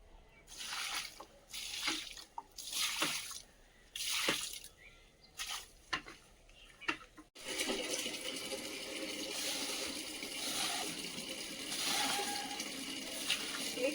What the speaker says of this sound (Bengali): ফুলের চারাগুলো একটু জল দিয়ে দিই